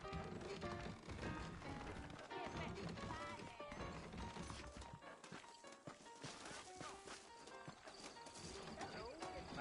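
Saddled horses' hooves clip-clop steadily in the Red Dead Redemption video game, set against a dense, loud game soundtrack with a horse whinnying now and then and heavy background sound throughout.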